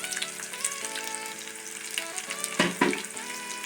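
Peppercorns and cumin seeds sizzle and crackle in hot oil in a pan, with scattered pops and a few sharp stirring knocks, close and fairly quiet.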